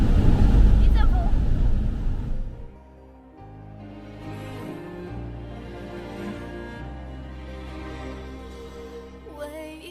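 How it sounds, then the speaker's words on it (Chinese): A strong gust of wind in a blizzard in bitterly cold northeast China hits a car hard enough to rock it. A loud, close rumbling roar fills the first couple of seconds, then drops to a calmer background as music with singing plays. "一阵风。"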